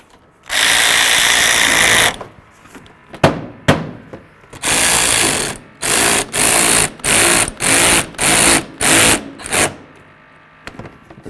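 A power tool drives a bolt during radiator replacement on a 2008-2016 Chrysler Town & Country, a long whir followed by a run of short, evenly spaced bursts, loud and close.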